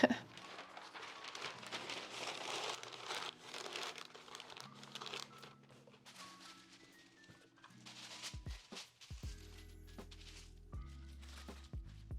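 Packing paper pulled from a roll and crumpled while plant orders are packed at a home plant shop, soft irregular crinkles and crackles at close range over quiet background music.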